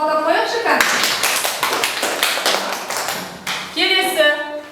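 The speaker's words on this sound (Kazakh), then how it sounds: "Ильястың жауабына шапалақтап қояқшы, кәне" A classroom of students applauding a pupil's answer: a burst of quick, close, rhythmic handclaps that runs for a few seconds, with a teacher's voice before and after.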